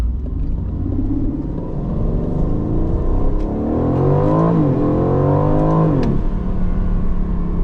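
An Aston Martin Vantage accelerating hard, its engine rising in a loud climbing roar through the revs before a sudden drop at a gear change, heard from inside the car.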